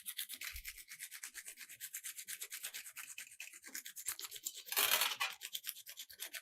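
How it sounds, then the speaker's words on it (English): Small piece of sandpaper scraping the insulation off a wire in a school magnet lab, a steady, rapid back-and-forth rubbing scratch that swells louder in one brief burst partway through, with no talking. "But when I am going to scrape it by using a small bit of a sandpaper"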